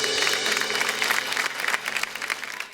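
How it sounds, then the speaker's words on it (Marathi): A studio audience breaks into warm applause on a Marathi television show, a brief, dense burst of many hands clapping that tapers slightly toward the end. "एकदा जोरदार टाळ्या तुमच्या स्वतःसाठी झाल्या पाहिजे।"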